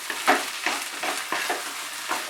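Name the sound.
stirring rui fish and potol filling in a wok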